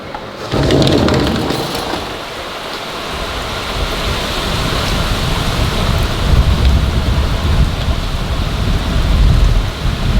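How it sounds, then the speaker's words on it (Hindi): Monsoon rain pours over a village in the morning, a dense, loud, continuous hiss of heavy rainfall with a deep rumbling undertone that builds slightly over ten seconds. "बारिश आ रही थी।"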